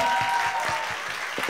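Steady broadband applause from a talk-show audience fills the whole stretch at an even level, a continuous wash of many hands clapping together without pause.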